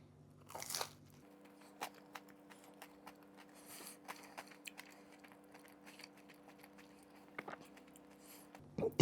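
Crispy-crusted, fluffy Korean garlic bread bitten and chewed close up, a crunchy bite followed by scattered small crunches and chewing sounds against a low steady hum.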